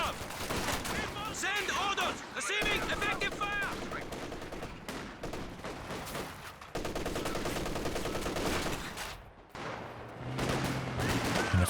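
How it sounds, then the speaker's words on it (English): Company of Heroes 2 battle audio with M1919 machine gun fire, bursts of rapid gunfire and other weapons crackling among explosions, loud and dense throughout with a commentator talking over it. "M1919 starting to come online now"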